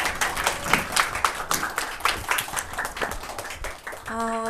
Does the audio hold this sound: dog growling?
no